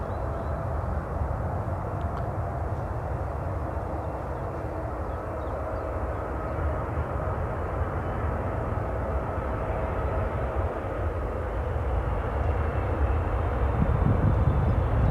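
A Qatar Airways airliner landing at Manchester Airport, its engines a steady, broad roar with a low rumble that swells slightly toward the end, heard from some distance outdoors without speech.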